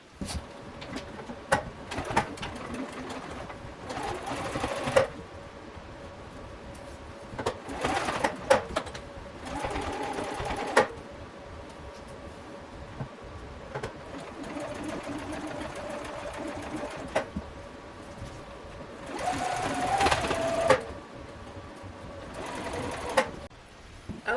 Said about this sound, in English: So I'm going to do my stitch right along the folded edge.